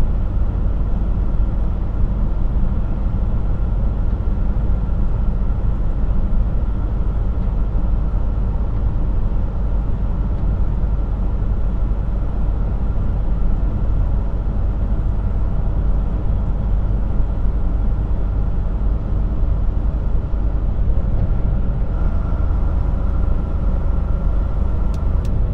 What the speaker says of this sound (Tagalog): Pangagatan natin ng engine brake dalawa para mag-slow down lang siya.